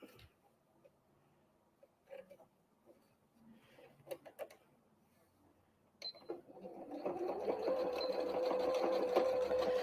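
A sewing machine stitches a Christmas tree napkin: quiet fabric handling and a few clicks first, then the motor starts and runs in a loud, steady whirring hum for the last few seconds.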